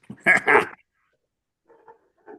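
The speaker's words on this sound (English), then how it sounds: "Hey, we don't mind the dog. That makes it more realistic." A dog in a home during an online tech talk gives a short pair of close barks or growls, then faint quieter sounds after a pause.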